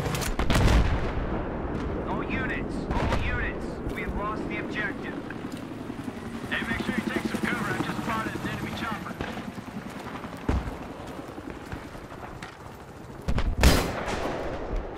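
Gunfire in the video game Battlefield 3, a few scattered shots and bursts spread through a busy battle mix, with voices talking over the action.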